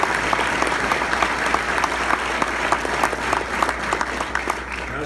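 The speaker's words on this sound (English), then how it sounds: "How about a round of applause for Coach Sturzman?" Parents and coaches at a youth sports gathering clap for a coach, producing loud, close, continuous applause with crisp individual claps standing out across the whole stretch, no speech over it.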